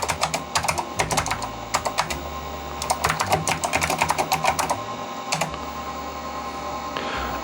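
Clicky keyboard typing on a Sanyo MBC-16 Plus computer: quick bursts of sharp keystrokes with short pauses between runs, close and fairly loud, over a steady low machine hum.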